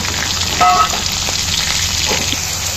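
Chopped onion, chili and garlic hit a hot pan, and a loud, dense, steady sizzle fills the clip up close, with only a faint brief clink and no speech.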